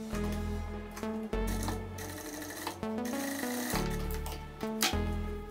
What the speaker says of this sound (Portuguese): Então eu vou passar uma costura aqui para fechar esse buraco que ficou aberto